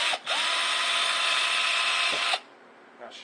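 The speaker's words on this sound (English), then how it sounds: "Let's drill a hole here so the wires will have somewhere to come out of." A power drill whines steadily for about two seconds at close range, starting and stopping abruptly, with brief faint sounds around it.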